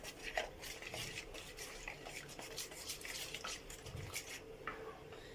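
A spoon stirs chicken shawarma marinade with cloves in a bowl, making soft repeated scraping and clinking against the dish, close and fairly quiet, with no talking.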